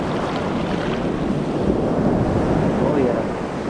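Ocean waves washing onto the sand at Cocoa Beach, Florida, a steady loud wash of surf and wind noise.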